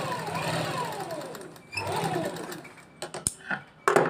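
A sewing machine stitches the waistband of a salwar in close, steady whirring runs, stops, then starts again, with a few clicks and knocks as the fabric is handled near the end.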